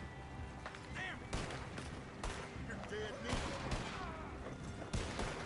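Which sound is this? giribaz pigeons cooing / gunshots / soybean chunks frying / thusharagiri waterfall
gunshots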